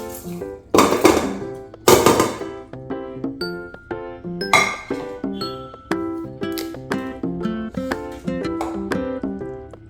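Lentils go into a pressure cooker for bisi bele bath, with a few bursts of rattling pours followed by a run of ringing metallic clinks and clanks from the pot, nearby and without speech.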